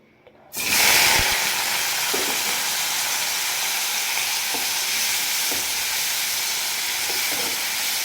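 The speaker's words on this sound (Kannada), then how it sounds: "ಸ್ವಲ್ಪ ಕ್ರಿಸ್ಪ್ ಥರ ಬರೋ ಥರ ಫ್ರೈ ಮಾಡ್ಕೋಬೇಕು." Boiled cauliflower hits hot oil with a sudden loud sizzle, then fries in a steady, close crackling hiss with faint stirring clinks and no voices.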